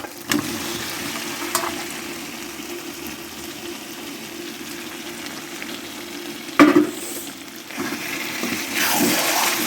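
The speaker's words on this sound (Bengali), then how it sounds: "আমি এবার এর মধ্যে দিয়ে দেবো ভেজে রাখা আলুটা" Fried potatoes are stirred into a spice masala frying in oil for Kashmiri dum aloo, giving a continuous low sizzle with a few scraping and clattering stirs, close and alone.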